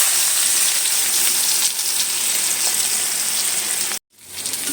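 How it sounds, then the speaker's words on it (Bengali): Chopped onions frying in hot pangas fish-frying oil with cumin seeds, a loud steady sizzle that runs continuously, then cuts off abruptly near the end before quietly resuming. "পেঁয়াজটা লাল লাল করে ভেজে নেব"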